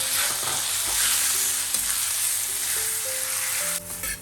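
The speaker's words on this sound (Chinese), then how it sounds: "蒜头碎开始变金黄色了，就加那个肉下去。" Meat sizzles in hot oil with golden minced garlic as it is stirred in a pan for Nyonya-style rice dumpling filling, a loud continuous frying hiss broken by scraping stirs and clinks.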